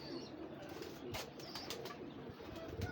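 Pigeons in a loft coo softly and continuously, with a few brief sharp chirps and rustles standing out against the low, muffled background.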